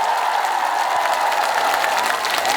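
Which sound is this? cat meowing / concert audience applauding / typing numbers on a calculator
concert audience applauding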